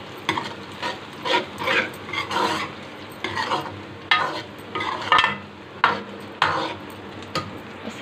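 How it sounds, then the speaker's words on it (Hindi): Garlic and onion sizzle in a pan while being stirred for a turai (ridge gourd) curry, rhythmic scraping strokes about once a second over a steady frying hiss, close and clear. "लहसुन हम इसमें डालेंगे और थोड़ा सा इसको हिलाएंगे।"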